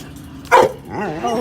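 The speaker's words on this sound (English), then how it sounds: "Oh, stop barking." A dog gives a single short, loud bark close by, followed by a person speaking.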